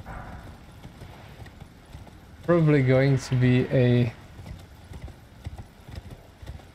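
Horse hooves clip-clop in the Elden Ring video game, a soft steady patter with a brief loud whinny-like call in the middle, while a person talks over it.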